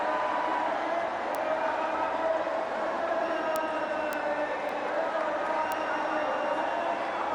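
An unhappy crowd at an India vs South Africa cricket match holds up play with a steady, dense roar punctuated by sharp whistles, and a voice talks over it.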